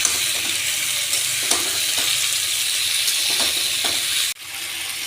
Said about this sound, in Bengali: ভালো করে মশলা বাটাটা দিয়ে ভালো করে কষিয়ে নেব।